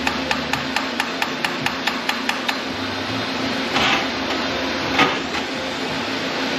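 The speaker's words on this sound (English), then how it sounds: "That's the pinpoint hammer." A metal hammer taps a 1961 Buick LeSabre's 364 Nailhead engine in a quick, even series of sharp strikes that slow and stop, followed by a couple of duller knocks over a steady mechanical hum.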